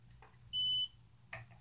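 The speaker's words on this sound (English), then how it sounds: "All I get is the beep." A single high electronic beep sounds briefly, clear and close, from a racing drone's faulty flight controller, over a quiet low hum with faint clicks before and after.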